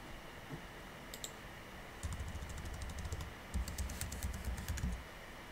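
A password is typed on a MacOS computer keyboard in quick, light key clicks, faint and close, arriving in short bursts with brief pauses between them.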